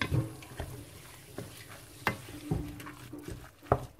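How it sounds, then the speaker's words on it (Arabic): Mallow (khobiza) greens with lemon fry in a pan with a quiet sizzle beneath scattered knocks and scrapes of stirring, a few of them sharper and louder. "خلط كلش نخليها تقلى وتشرب لنا العطريه"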